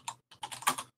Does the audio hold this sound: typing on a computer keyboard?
yes